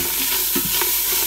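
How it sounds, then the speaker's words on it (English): Onions and celery sautéing in a pot without oil get a quick stir: a soft, steady sizzle under a couple of brief scraping strokes, close and moderately loud. "we're gonna go ahead and add our onions and celery right into the pot"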